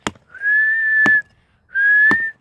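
A person whistles two sustained, steady tones separated by a short pause, loud and close, with sharp clicks at the start and end of each.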